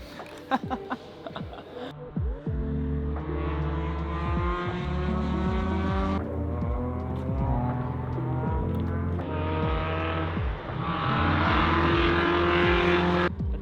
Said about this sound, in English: our first lap around Road America in a spec Miata with Mazda Motorsports